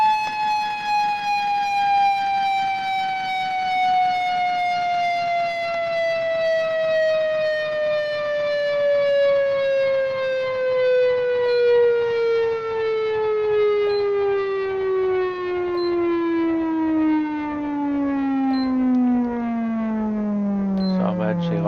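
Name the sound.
fire truck manual siren in video game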